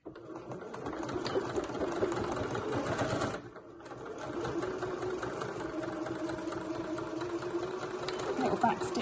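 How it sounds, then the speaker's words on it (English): Sewing machine running a back-stitch over a folded fabric pleat on a pack-away shopping bag, a steady close whirring hum that pauses briefly near the middle before resuming. "I'm going to go back over my stitches that I already did, and I'm just going to stitch over the top of them to hold that pleat down"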